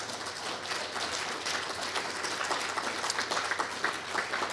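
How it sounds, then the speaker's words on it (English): A room full of people applauds two gentlemen at a Special Forces Association gathering, a dense, steady wash of clapping that holds at even strength from start to finish with no voices breaking through. "a big round of applause for these 2 gentlemen"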